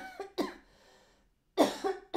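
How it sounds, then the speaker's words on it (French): A woman coughs in two bursts, a pair of sharp coughs followed after a pause by a louder, rougher cluster, close and clear with no talk. "Excusez-moi, vous voyez, ça me fait tousser."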